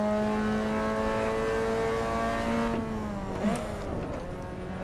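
Race car engine droning steadily through a lap in Assetto Corsa EVO, loud and close, pitch holding then dropping as it shifts and brakes, with no talking.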